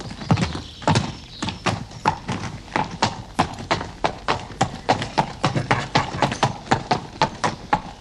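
Horse hooves clip-clop in a steady, regular rhythm, each hoof strike a sharp, close knock on hard ground, continuing throughout.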